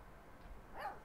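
A single short, faint yip-like bark from a puppy in the Life Is Strange 2 video game comes near the end of a quiet moment.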